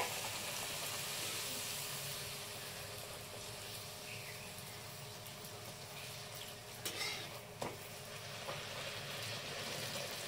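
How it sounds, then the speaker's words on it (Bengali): Luchi, puffed bread made from maida flour, frying in hot oil, giving a steady close hiss and crackle throughout with a couple of brief clinks near the end. "আর এই যে লুচিগুলো ভাজা হচ্ছে"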